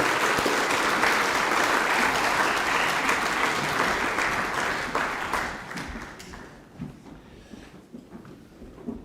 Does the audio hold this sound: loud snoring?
no